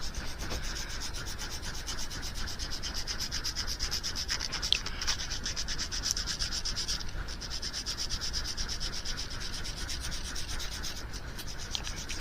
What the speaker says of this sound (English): I will take the Dremel to this.